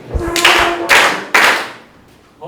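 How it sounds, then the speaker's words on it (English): Three bursts of clapping from a school class, each short and loud, with a couple of soft thumps just before and a faint tap at the end. "So clap for Hassan."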